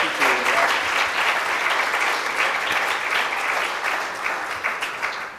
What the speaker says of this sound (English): I want to give Michael a huge round of applause, Julia, too, for running the conversation tonight